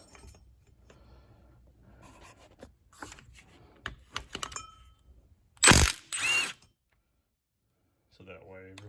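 GearWrench 120XP ratchet working a bolt: faint clicking and mechanical rattling early on, then two short, loud rasping bursts of ratcheting close by, followed by a pause and a brief final rattle.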